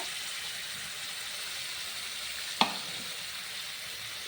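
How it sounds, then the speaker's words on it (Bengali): A faint, steady sizzle rises from a hot pan as South Indian style dal goes in, broken by one sharp clink partway through. "এইবারে ঢেলে দেবো একবারে পুরো ডালটা।"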